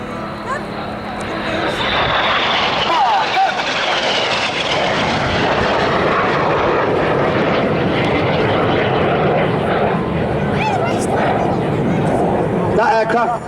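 Red Arrows jets performing in an air display: a loud, continuous roar of jet engines passing overhead, steady and powerful throughout, with a voice speaking beneath it.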